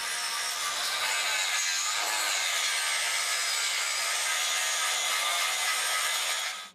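A power tool grinds down the weld seams on a steel cyclekart frame, giving a continuous loud, bright abrasive whine that holds steady throughout before cutting off at the end.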